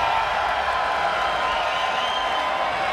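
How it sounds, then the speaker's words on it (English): A live crowd at an esports event for the PUBG battle royale game cheers and roars continuously, a loud, dense wall of voices and clapping filling the hall without a break. "Crowd, make some noise!"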